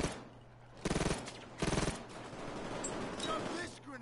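Short bursts of submachine gun fire in the heist game PayDay, two quick rattling volleys separated by a pause, over a low steady hum and some game background noise.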